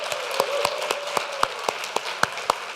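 Crowd applause with a steady wash of clapping and sharper individual claps standing out at a regular beat, fairly loud and sustained.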